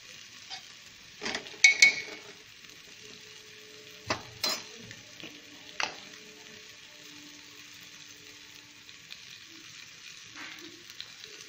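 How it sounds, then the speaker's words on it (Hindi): Vegetables and spices including garam masala, red chilli and salt stir-fried in a pan for soybean vegetable rice, a low steady sizzle broken by a few sharp scraping and clinking stirs near the start and middle. "मिक्स कर देंगे, आधा मिनट मसाले को वेजिटेबल के साथ भून लेंगे।"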